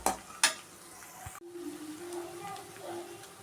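Green chilies sauté in hot oil for a South Indian tomato rice, with a soft steady sizzle after a couple of sharp clinks of a utensil against the pan at the start.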